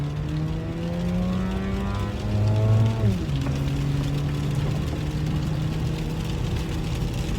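A Mazda RX8 engine accelerates in gear from inside the car, its tone climbing steadily, dropping sharply at a gear change, then climbing again as a continuous moderate drone.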